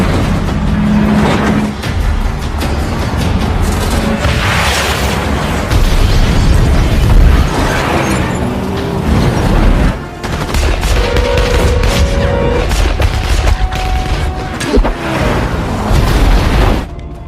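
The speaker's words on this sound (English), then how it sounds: "The shootout is unavoidable between the thugs and Samson's crew." Movie shootout between thugs and a crew, with dense bursts of gunfire and booming explosions over a constant loud roar of action, sharp cracks and blasts recurring throughout.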